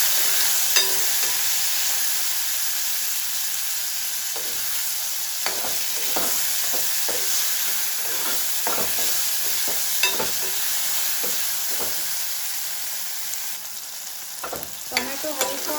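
Cumin and a medium tomato frying in a pan for tur dal, giving a steady close sizzle with scattered scraping strokes of a spoon stirring through it, and no voices.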